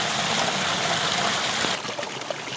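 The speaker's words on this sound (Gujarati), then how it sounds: "પાણીનો અવાજ" Continuous rushing water flowing steadily nearby in a stepwell during rain, loud and even, easing slightly toward the end.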